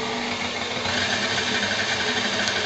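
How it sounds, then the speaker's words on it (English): A stand mixer whirs steadily while beating batter, a constant mechanical hum with a buzzing tone, close and unbroken, no voices. "Ingredients in the mixer. So now it's battering."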